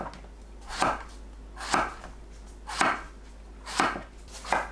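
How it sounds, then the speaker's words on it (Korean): A knife slicing an eggplant diagonally on a cutting board: five evenly spaced, crisp chops about one second apart, close and clear over a quiet background. "가지는 양끝을 자릅니다. 어슷 썰어주세요."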